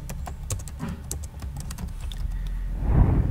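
Quick clicking keystrokes on a computer keyboard while searching a website, a steady patter of fairly close taps with a soft low rumble rising near the end and no speech.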